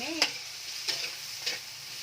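Salt being stirred into ground meat in a frying pan for spaghetti sauce, a soft sizzle under three separate scraping strokes of the spoon spaced evenly, close and without talking.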